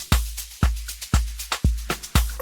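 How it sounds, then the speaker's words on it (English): Shaker loop layered in an Afro tech track built in FL Studio 24.2, a busy rhythmic shuffle of bright hissy shakes riding over a steady four-on-the-floor kick, loud and upfront with no voices. "I added another shaker loop for the climax part of the song"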